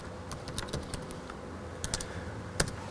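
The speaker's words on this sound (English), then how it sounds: "So I'll try to explain it as I'm typing." Close, fairly quiet tapping on a computer keyboard, a run of quick uneven keystrokes with brief pauses and a couple of sharper presses, alone without speech.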